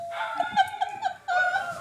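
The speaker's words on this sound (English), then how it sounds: "Pearl is going off right now. Oh, God. I love hearing dogs." Dog vocalising close by in a home, a run of high, whiny yelps and whimpers in short bursts with brief gaps, no talk over it.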